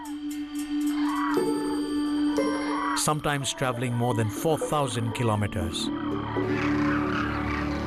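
Demoiselle cranes migrating to India's Thar desert call loudly as they fly in, with repeated bugling, trumpeting cries overlapping in a flock, heard under a narrator's voice and music.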